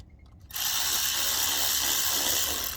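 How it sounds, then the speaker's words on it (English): A hose clamp on the coolant hose of a CAT C-12 diesel engine is tightened with a ratcheting tool, a rapid continuous clicking buzz that starts abruptly and runs steadily for about two seconds, close and loud without talk. "Gonna go ahead and tighten this one up"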